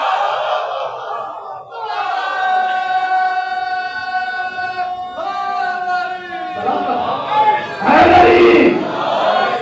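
A crowd in an imambargah chants the Nara-e-Haidari slogan, sustained voices rising in unison with a held, droning tone, then a loud burst of shouting near the end.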